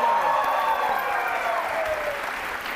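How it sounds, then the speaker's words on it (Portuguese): A studio audience gives a round of applause to Gabriel Totoro on his return after a sprained ankle, steady full clapping that gradually eases in loudness, with cheering tones faintly mixed in. "Totoro, uma salva de palmas!"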